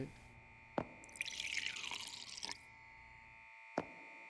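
Water poured onto plants in a video game makes a soft trickling splash between sharp, isolated drips, with one clear drip before the pour and another after, faint and close over a quiet electronic hum.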